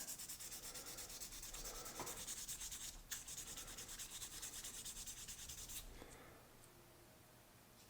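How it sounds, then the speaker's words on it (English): Sandpaper rubbing over an oxidized Hot Wheels die-cast Greyhound bus, a steady close scratchy scrubbing that runs continuously and eases off slightly near the end, with no talking. "I'm going to give it a little once over with some sandpaper"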